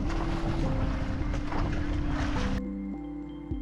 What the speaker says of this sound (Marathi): मोठा वळसा संपवून आता आमची बोट परत किनाऱ्याकडे निघाली